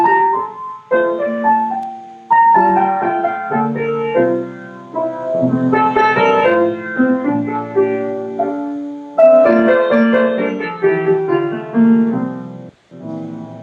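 Harmonized version of the opening melody of Kevin Puts' flute concerto, played as full chords in a continuous, close passage with a brief pause near the end.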